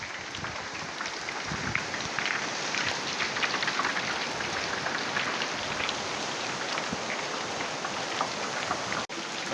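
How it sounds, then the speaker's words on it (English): Steady rain pours outdoors in a dense, continuous hiss of drops drumming on surfaces, close and fairly loud, with a brief knock near the end. "Finally raining."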